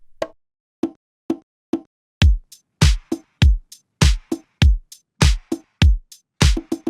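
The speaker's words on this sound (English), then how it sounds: "I actually found this conga sample on Splice, which should probably work." A conga pattern plays alone, crisp hand-drum hits in a steady syncopated rhythm, mixing high slaps with deeper booming tones, close and punchy.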